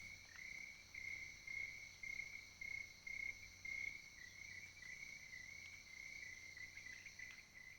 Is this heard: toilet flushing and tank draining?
no